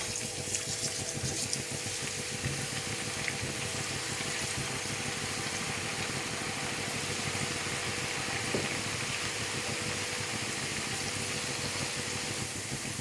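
Ribbon pakoda dough fries in hot oil, a steady, dense bubbling hiss that holds evenly throughout without pause.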